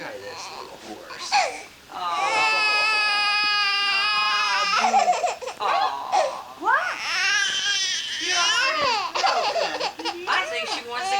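A baby girl cries and yells loudly and close by in long, wailing bursts with short breaks, while an adult briefly speaks.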